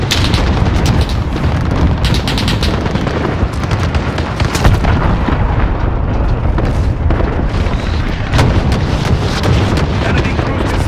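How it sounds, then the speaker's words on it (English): Cruise missile launch and detonation in Call of Duty Modern Warfare on PS5, a loud, continuous roaring rumble broken by heavy booming bursts and crackling debris that stays dense and sustained from start to finish. "Allied cruise missile away."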